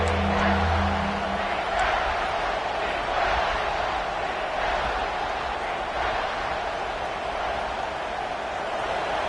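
A large football stadium crowd at a Dukes vs LSU game roars in a steady, dense wash of cheering and noise that holds loud and unbroken throughout, with no clear single voices standing out.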